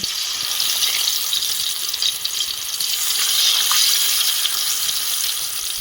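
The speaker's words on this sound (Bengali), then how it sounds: "এবার ভোলা মাছগুলো ভেজে নেব" Bhola fish fry in hot oil in a pan over a strongly burning stove, giving a continuous bright sizzle and hiss with small crackling pops, steady and close.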